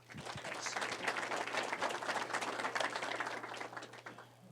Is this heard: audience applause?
yes